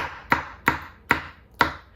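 A knife cutting through a pineapple on a board, four evenly spaced sharp chops about half a second apart, close and clear with no voices.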